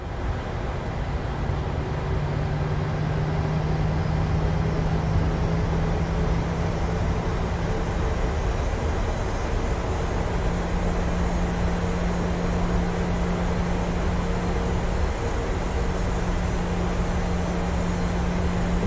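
A PMDG Boeing 737-700 rolling along the taxiway at Miami in Microsoft Flight Simulator 2020: a steady, even engine whine and rumble with a low tonal hum, continuous and unchanging throughout.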